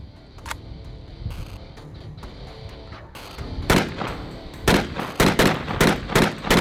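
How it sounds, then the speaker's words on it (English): Rifle shots from a FosTech rifle at an outdoor shooting event, starting with a few scattered reports and building into a rapid run of loud, sharp bangs in quick succession toward the end. "why don't we see some more shooting?"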